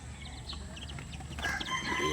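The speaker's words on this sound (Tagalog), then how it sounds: "Silipin natin yung ating mga alagang kiti." Chicks and chickens on a farm cluck and peep softly at close range, with small chirping calls over a quiet background.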